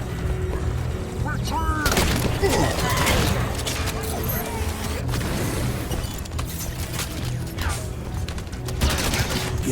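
Gunfire in Halo 5: Guardians, a dense, steady spread of shots and impacts layered with game effects and low rumble, continuous through the scene with voices nearby.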